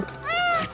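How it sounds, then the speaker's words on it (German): A cat meows once in the video game Indiana Jones and the Great Circle, a clear, rising-then-falling mew close to the listener, with faint game ambience behind it. "Oh, da ist wieder eine Katze."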